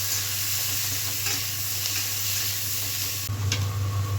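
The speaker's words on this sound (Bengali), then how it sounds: "ওই তেলের মধ্যেই আলুটাকে ভাজবো। আর পেঁয়াজটাকেও দিয়ে দেবো একসাথে, দিয়ে লাল লাল করে ভেজে নেবো।" Potato and onion fry together in hot oil with a steady, dense sizzle, stirred in the pan, loud and close with no talking.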